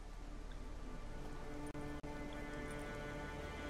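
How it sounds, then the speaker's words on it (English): Steady rain falls across an open nighttime landscape in The Witcher 3 in Skellige, a constant soft hiss of drops broken by two brief dropouts, with faint low rumble beneath. "Wait, does it always rain this time?"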